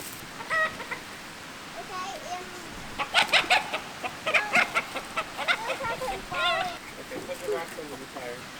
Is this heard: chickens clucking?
yes